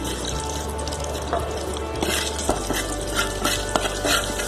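Curry leaves and cumin seeds sizzling in about two tablespoons of hot oil for spiced potatoes: a steady, close crackling hiss with scattered sharper pops throughout, and no talk.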